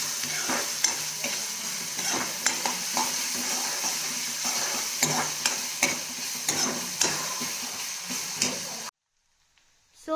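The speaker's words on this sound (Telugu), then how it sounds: "సో మనం ఇందులో ఆనియన్స్ అండ్ పచ్చిమిరపకాయలు వేసేసాము. ఇవి గోల్డెన్ బ్రౌన్ కలర్ వచ్చే వరకు వేగించుకోవాలి." Onions and green chillies sizzle in hot oil in a pan while a spoon scrapes and stirs in regular strokes. The cooking sound runs for about nine seconds and then cuts to near silence.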